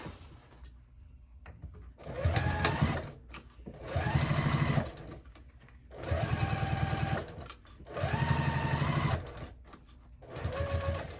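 A sewing machine runs a 3/8 inch seam on a crossbody bag in four or five steady bursts of a few seconds each, close and clear with brief pauses between runs.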